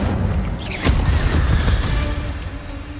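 A booming fire-spell blast in the Hogwarts Legacy video game, a sharp burst followed by a rumbling roar that lingers for a few seconds.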